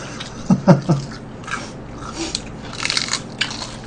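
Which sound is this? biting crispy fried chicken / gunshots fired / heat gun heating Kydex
biting crispy fried chicken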